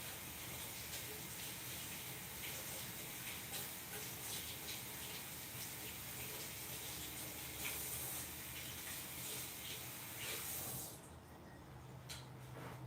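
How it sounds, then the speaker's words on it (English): Tap water runs in a steady, faint hiss while something is rinsed out, then cuts off near the end, leaving a quieter background, with no talking. "Let me rinse this out."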